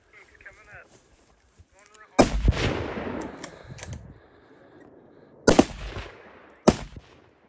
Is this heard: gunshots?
yes